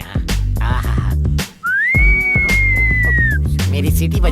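A single loud whistle, sliding up, holding steady for nearly two seconds, then dipping off, rings out over rhythmic background music in a comedy scene on an American beach.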